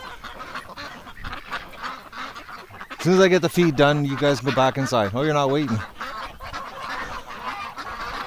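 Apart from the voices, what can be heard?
ducks honking in winter by a barn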